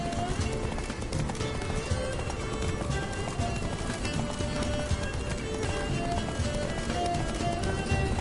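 Horse galloping in The Witcher 3: Blood and Wine, a steady fast clip-clop of hooves running continuously under game music and a voice speaking over the ride.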